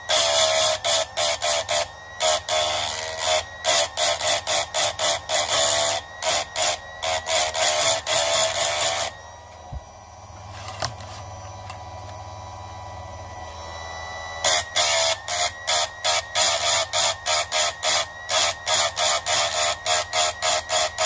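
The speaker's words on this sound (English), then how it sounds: "So it's just a matter now of grinding" A chainsaw chain grinder sharpens a chain in rapid repeated bursts of harsh grinding, each tooth a short loud pass, with a quieter pause midway before the rhythmic grinding resumes.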